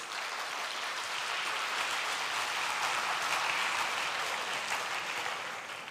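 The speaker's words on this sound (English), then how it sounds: "please give them a big round of applause" Audience applause fills a hall at an agribusiness summit launch for women and youth entrepreneurs, steady and sustained clapping from a large crowd throughout, fading slightly at the end.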